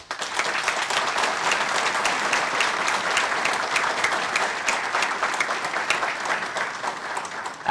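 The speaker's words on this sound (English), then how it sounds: "the audience is prohibited from applauding the debaters, except for now when we announce each debater" An audience applauds steadily at a televised national political leadership debate as a debater is announced, a dense, close wash of clapping that holds for several seconds without talk.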